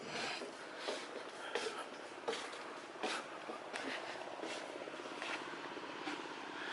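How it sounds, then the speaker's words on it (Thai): A motorboat engine drones steadily in the distance across clear open water off the coast at Rayong, Thailand, a continuous low hum with faint irregular clicks and rustles nearby. "ได้ยินเสียงเรือครับ"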